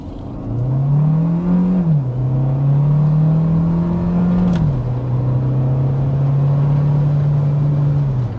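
Hyundai Tucson hybrid SUV with all-wheel drive accelerating hard to 60 mph, a loud steady engine drone heard from inside the cabin, its pitch dropping slightly at shift points.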